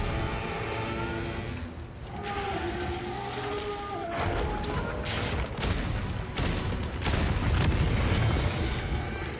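Gunlance Wyvern Fire blast in Monster Hunter Wilds, a dense, loud wall of booming explosive rumble and crackling blasts that holds steady and swells toward the end amid ongoing game noise.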